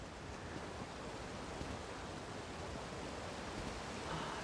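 A waterfall in the video game Elder Scrolls Online pours steadily, a broad, even rushing hiss that stays faint and unbroken, with no voices.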